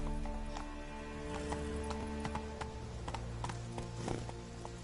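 Roach, the horse in The Witcher 3: Wild Hunt video game, gallops with steady, rhythmic clip-clopping hoofbeats and a whinny, over a low tonal backdrop and with no talk.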